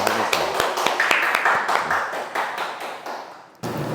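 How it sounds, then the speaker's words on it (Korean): About ninety-seven people at a church lecture clap together to welcome a speaker, dense overlapping applause that fades gradually before cutting off, with faint voices underneath. "우리 97명의 박수로 우리 함께 같이 환영을 하도록 하겠습니다"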